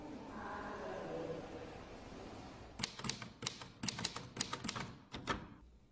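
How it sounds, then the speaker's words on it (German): A typewriter tied to a ransom-letter case in a German crime documentary types in bursts of sharp, close keystrikes after a stretch of muffled background sound, the clatter coming in uneven clusters with brief pauses. "Bei einer Durchsuchung findet man bei ihm die Schreibmaschine, auf der die Erpresserbriefe getippt wurden."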